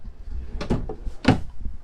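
A drawer slides open or shut in the bathroom of a 2021 Grand Design Reflection 150 Series 295RL fifth wheel trailer, with two or three quick knocks and rattles close by in a quiet room.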